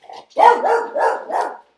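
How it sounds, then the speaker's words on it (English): A dog barks close and loud indoors, three or four quick rough barks run together in a short burst. "Every time I go live, my dog is going crazy."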